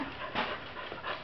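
Australian Cattle Dog panting softly and steadily up close, a quiet rhythmic breathing with no talk.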